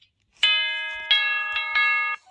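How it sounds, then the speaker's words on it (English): Four struck chimes tapped with a stick ring out one after another at a steady, slightly uneven pace, each a bright metallic tone that holds and slowly fades, close and clear with no talking. "Chimes make a noise when you tap them with a stick."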